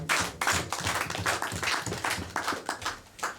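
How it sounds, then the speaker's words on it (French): A church congregation claps in rhythmic bursts at a worship service, a quick repeating pattern of hands with brief gaps between beats and no speech over it. "Let us clap for him."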